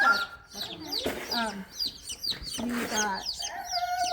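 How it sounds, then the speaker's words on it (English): Backyard flock of chickens, including cream legbars, barred rocks and lavender Orpingtons, clucking and squawking close by in repeated bursts while someone talks briefly over them. "cream leg bars, black sex links, barred rocks, signature Wells, lavender Orpingtons"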